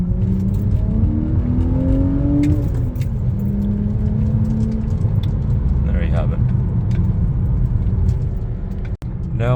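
An E90 BMW 330i with a six-speed manual gearbox and a 3.64 differential accelerates hard, the engine note climbing in pitch, breaking at a shift, then climbing again, loud and close inside the cabin.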